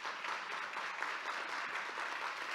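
Conference audience clapping for a startup panel, a steady even applause heard from a distance and fairly quiet.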